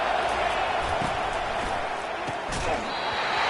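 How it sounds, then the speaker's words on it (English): Dense, roaring football stadium crowd noise during a college football game on third down, a steady loud wash of voices and cheering with occasional thuds, while a commentator talks over it. "Decibels rising as the crowd gets behind this defense on 3rd down."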